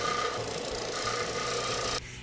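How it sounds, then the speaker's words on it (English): Sander working on polycarbonate end caps in a workshop, making a continuous harsh rasping, rubbing grind that holds steady and close for about two seconds, then stops abruptly. "Using a sander, I'll clean these up."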